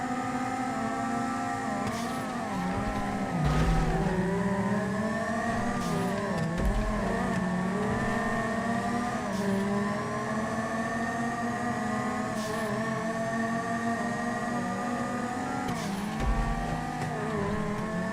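A Banshee sports car engine in GTA 5 racing, holding a loud, sustained high-revving drone with small pitch dips as it shifts and corners, steady and close throughout.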